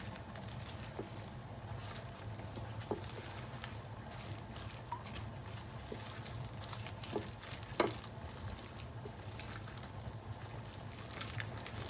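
Soft scraping and stirring of onions in a pan for shrimp fritters, a faint continuous swishing with occasional light clicks, fairly quiet and steady with no talk.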